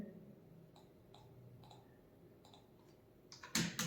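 Keys tap on a computer keyboard while data is typed into an Excel sheet, a few faint, evenly spaced clicks close by, ending in a louder clatter of keystrokes.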